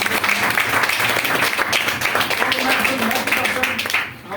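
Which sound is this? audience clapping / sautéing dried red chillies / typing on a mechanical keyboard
audience clapping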